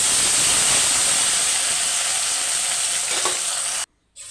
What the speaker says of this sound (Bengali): তো গরম তেলের উপরে এখন কাতলা মাছগুলো ভেজে নেওয়ার পালা।